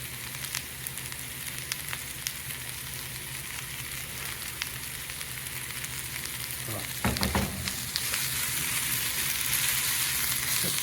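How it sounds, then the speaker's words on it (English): Garlic and soup ingredients frying in a pot for spicy pumpkin soup, a quiet continuous sizzle with light stirring scrapes and a louder clatter and rise in sizzle partway through. "Give that a bit of a stir for a while."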